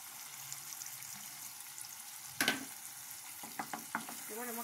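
Soya chunks and homemade chhana frying in a pan with cumin, coriander and chilli powder, a low steady sizzle with a few sharp stirring scrapes and clatters near the middle and end.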